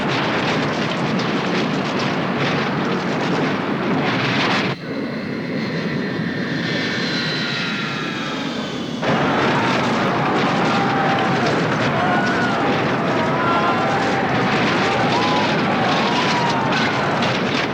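An airliner in flight in a film scene, with a loud continuous engine roar and rushing wind throughout, interrupted midway by a brief quieter stretch with whining tones before the roar resumes.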